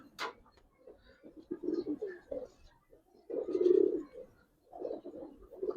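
A Chuitala pigeon coos in low, throaty bursts close by, two main phrases separated by a quiet pause, with a faint chirp at the start.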